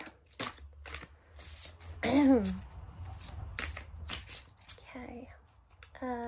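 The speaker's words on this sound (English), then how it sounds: "I'm just going to shuffle a few times again." Tarot cards are riffled and shuffled in short rustling bursts at close range, while a voice talks quietly between the shuffles.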